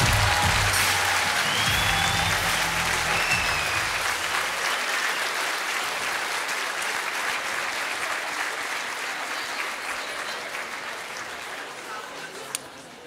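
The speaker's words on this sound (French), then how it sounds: "félicite bien fort nos diplômés, s'il vous plaît, on les applaudit tous" A graduation ceremony crowd for Master Marketing graduates claps in a sustained, dense wave of applause that starts full and loud and then slowly thins and fades toward the end.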